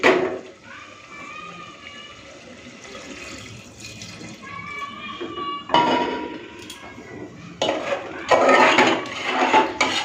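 Mutton cooking in a pressure cooker gets stirred with added water, metal spoon scraping and clinking against the pot in bursts, with splashy sloshing and a voice talking intermittently.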